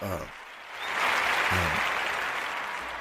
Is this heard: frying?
no